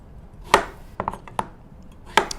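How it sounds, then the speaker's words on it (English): A knife chops English cucumber into quarter strips on a cutting board, giving four distinct sharp chops with irregular pauses between them and no talking. "what I do is I cut them in kind of quarter strips, like that, and then make them like 1/3 or 3 inches like long"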